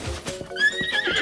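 Horse hooves clip-clop in the Zelda Breath of the Wild video game, and a shrill neigh follows, loud and close, with a few distinct hoof thuds under it.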